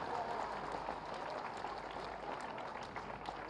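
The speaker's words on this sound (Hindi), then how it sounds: "गड़गड़ा के ताली।" A large outdoor crowd at a government event in Gorakhpur claps for the Maharaj in a continuous, fairly distant patter of many hands, holding steady throughout with faint murmur underneath.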